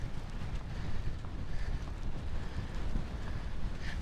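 Steady wind on the coast at Gretna near the Scotland-England border, rushing and buffeting the microphone as a continuous low roar with no voices.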